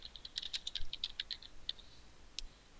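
Rapid clicking keystrokes on a computer keyboard as a name is typed into a Google attendance form, in a quick irregular burst with a few pauses, ending in one sharper isolated key press.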